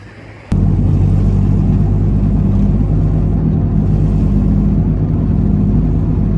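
Car cruising along a road toward Lipa during New Year celebrations, with a steady close engine and road rumble that starts abruptly after a short quiet moment.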